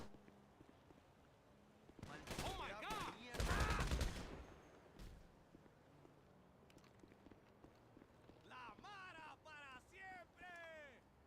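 Machine gun fire crackles in a video game, bursts of rapid shots around the middle, followed later by a player talking over quieter game sounds.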